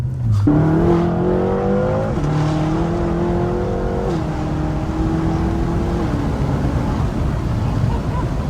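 A 2014 BMW engine runs loud and close, with rising revs in several steps that hold and then settle back toward a steady drone.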